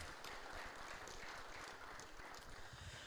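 Distant, faint audience applause fills a hall at a university programming contest opening ceremony, a steady dense patter of many hands with no talking over it.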